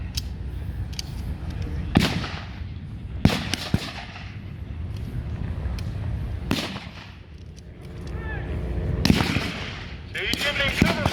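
Sharp bursts of blank gunfire crack out at a Pacific war reenactment, several loud reports spaced a few seconds apart with scattered fainter pops in between, over a steady outdoor background.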